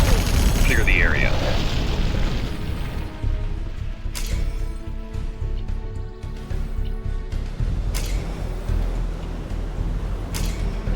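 Command & Conquer Generals Zero Hour battle with weapons firing and booming explosions, a dense rumbling barrage with sharp blasts, heavy low thuds and brief unit voice lines over the action.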